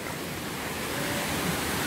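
A cold waterfall near a guesthouse rushes steadily, a broad continuous roar of falling water that holds the same level throughout the short stretch.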